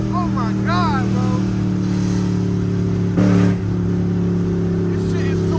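A Dodge Hellcat with a newly fitted loud exhaust idles with a deep rumble and blips its throttle in a brief rev, heard close under excited talking.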